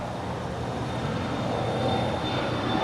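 An airliner's jet engines roar steadily through a takeoff run at LAX, a broad, loud rumble with a faint high whine that holds and builds slightly, with no voices.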